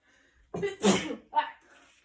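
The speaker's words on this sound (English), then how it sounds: "I gotta sneeze." A single sharp sneeze bursts out close by after a brief inhale, followed by a short breathy aftersound.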